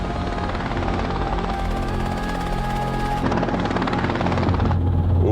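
A heavy helicopter landing on the roof of a Skoda Yeti, its rotor and turbine roaring loud and steady at close range, with rhythmic blade thumping throughout.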